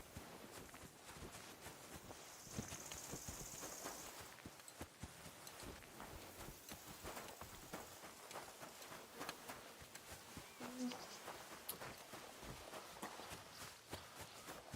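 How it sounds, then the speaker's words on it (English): Horse hooves clip-clop steadily in the medieval video game Kingdom Come: Deliverance, a soft, continuous rhythm of footfalls over faint ambient sound with no talk. "It's still a horse."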